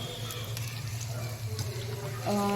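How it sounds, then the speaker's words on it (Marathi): Chicken 65 pieces frying in oil over a medium flame give a steady bubbling sizzle that lasts the whole time, with a brief clatter near the end. "मिडियम फ्लेमवर आपण हे छान तळून घ्यायचं"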